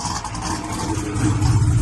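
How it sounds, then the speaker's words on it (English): A restored, frame-off car's exhaust rumbles loud and close as the engine revs, a steady deep roar that swells slightly toward the end, with no voices. "Listen to that exhaust tone."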